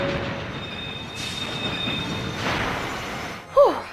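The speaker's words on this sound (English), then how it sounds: "if you manage it, the train does stop in time." A train in Final Fantasy VII brakes to a stop, with rumbling wagons under a long, high metallic wheel squeal that fades, followed by a short final thud and screech near the end.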